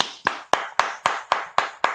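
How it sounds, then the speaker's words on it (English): Hands clap at an even pace, eight crisp, sharp claps close by, one person applauding alone in a quiet room. "your scene partner is clapping for you in the green room"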